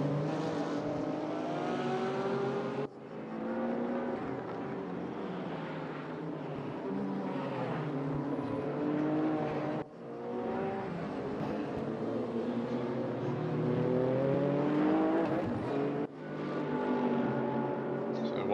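A Mercedes AMG GT3 race car engine in a racing video game revs hard through repeated upshifts, each climb in pitch cut by a brief dip where a gear change lands, loud and continuous throughout.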